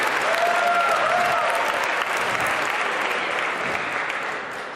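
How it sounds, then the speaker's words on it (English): Loud, dense audience applause at a startup pitch competition final, steady clapping from a crowd that fades slightly toward the end as a presenting pair takes the stage. "Round of applause."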